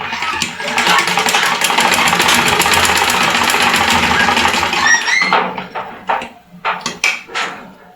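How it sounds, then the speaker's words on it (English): A sewing machine runs a straight stitch along a shirt collar, a loud continuous mechanical whir for about five seconds, then stops and leaves a few short clicks and handling knocks. "you put this back under the machine, as you can see me do. You are going to stitch this"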